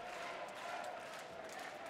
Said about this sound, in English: Crowd getting into the spirit of things here in Aarhus.